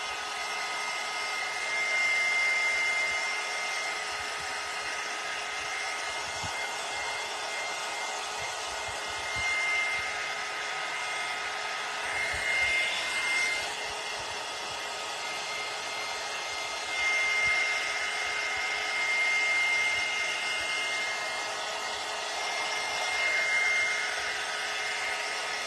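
Steady whooshing drone of a hair dryer blowing on a freshly painted vase, continuous and close for the whole stretch with slight swells in loudness and no talk.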